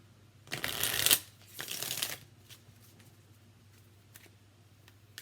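Island Time Wellness oracle cards are shuffled in two quick riffling bursts up close, followed by a few faint taps and shuffles in a quiet room.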